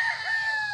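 A Boston Roundhead gamefowl rooster at a gamefarm gives a short, loud, close call that runs through the whole brief moment, sounding more like a crow than a cluck.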